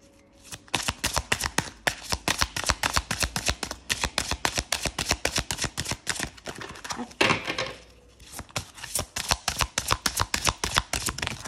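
A deck of rune oracle cards shuffled by hand, producing rapid, crisp riffling flutters that repeat in quick, even bursts up close, with a brief pause midway before the shuffling resumes.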